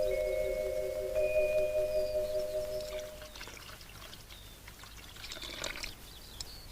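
Water pours from a faulty tap, a trickling, splashing flow that starts beneath a sustained tonal hum and then continues alone, rising and falling in strength.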